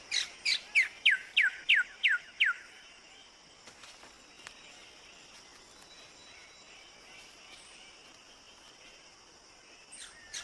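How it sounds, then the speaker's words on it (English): A Wilson's bird of paradise in an Indonesian forest gives a rapid series of about eight sharp, penetrating, downslurred calls in quick rhythm. Quiet forest ambience follows, with an insect-like high hum, faint scattered sounds and a brief call near the end. "The Wilson's bird of paradise uses penetrating calls to attract females."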